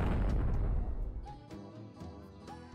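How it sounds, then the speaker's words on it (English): Explosions from a 90s bomb puzzle video game: a heavy boom opens, then short popping bursts follow in a chain as neighboring bombs go off, the first loud and the later ones lighter and clipped. "an exploding bomb ignites a neighboring bomb"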